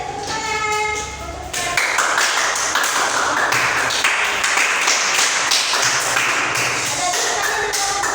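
A classroom group claps together, a dense sustained round of applause that starts after a brief tonal intro and continues steadily, close and loud, with faint voices mixed in.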